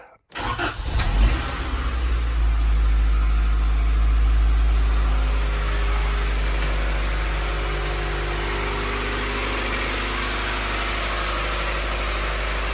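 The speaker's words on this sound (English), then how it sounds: "Still idling a little bit high right now because it's cold" A Honda CRX engine cranks and catches, then settles into a steady, rumbling idle, slightly high because it is cold, that continues evenly, close and loud, with no talking.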